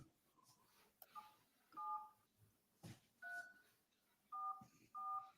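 Telephone keypad tones beep in short paired bursts, several presses spaced out one after another, fairly quiet with faint background sounds between them.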